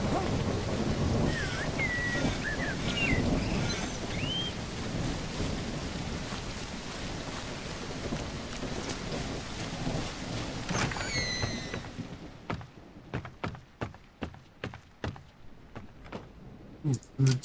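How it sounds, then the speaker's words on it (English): Video game rain and thunder from No One Survived: heavy rain pours steadily with deep thunder rumbling underneath, then fades to scattered sharp drips and taps near the end. "It's eternal, incessant rain."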